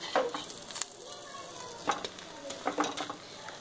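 Oil sizzling around an egg paratha frying in a pan, close and crackling, with a few louder bursts as the oil hits the hot surface.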